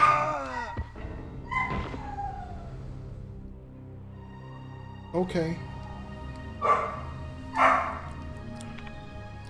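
A pet dog yips and barks a few times in short bursts in the background, under a person's talking.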